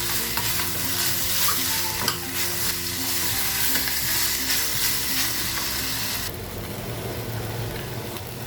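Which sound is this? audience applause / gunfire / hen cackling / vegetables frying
vegetables frying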